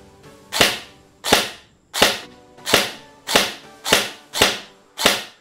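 A G&G ARP9 airsoft gun fires eight loud, sharp pops at a steady pace of about one every two-thirds of a second, each crack decaying quickly, with no voices.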